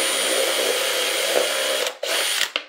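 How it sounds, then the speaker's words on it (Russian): A power drill bores a hole through a plastic bottle cap, whirring steadily and loudly close by for about two seconds, then briefly stopping and restarting twice with short bursts. "Также нужно просверлить отверстие еще вот в этой части."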